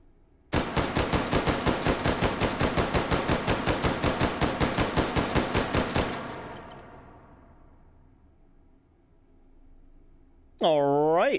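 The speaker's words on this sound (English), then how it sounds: "I'm going to run 30 rounds of the 30 carbine" Rapid burst of about thirty shots from an M1 carbine firing .30 Carbine rounds with an optic mounted in the H3VR video game, loud, close and evenly spaced, then a trailing echo fading into quiet.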